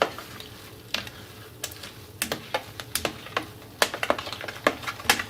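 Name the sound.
stirring sauce into eggs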